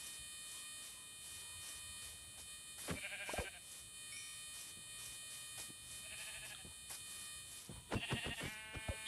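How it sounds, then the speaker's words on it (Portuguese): Sheep in a video game bleat a few times over a constant electronic game hum, the calls brief and moderately loud against steady background tones. "Ovelha."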